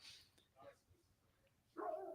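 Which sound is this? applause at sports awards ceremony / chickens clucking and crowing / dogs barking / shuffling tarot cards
dogs barking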